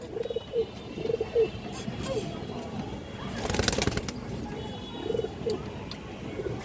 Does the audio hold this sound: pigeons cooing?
yes